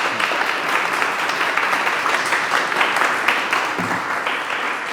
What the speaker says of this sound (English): how about a round of applause for our speaker?